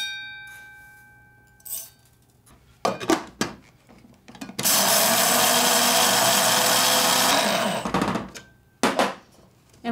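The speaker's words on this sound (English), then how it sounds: "So I like to use a coffee grinder. There you can put the flaxseed in and grind it up." Coffee grinder pulverizing flaxseed: a few scattered clicks and taps, then a loud, harsh motor whir for about four seconds that stops abruptly, followed by more handling clatter.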